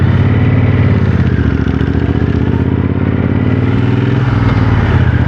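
A motorcycle runs loud and close, its engine holding a steady throbbing drone with slight shifts in pitch as it moves off, no voices over it.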